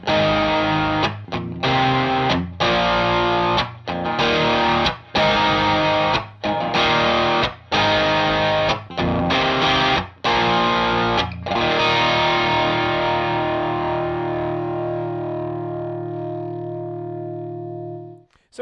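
Electric guitar played through a ProDrive V2 distortion pedal in its bright mode: a series of loud, treble-heavy distorted chords struck in a steady rhythm, then a final chord left ringing and slowly decaying.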